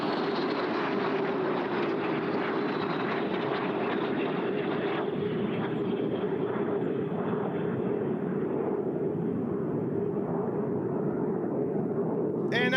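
A Lockheed F-22 Raptor fighter jet at the Selfridge air show, a loud, continuous roaring engine rush that slowly shifts in tone as it passes, steady throughout with a faint announcer-style voice mixed in.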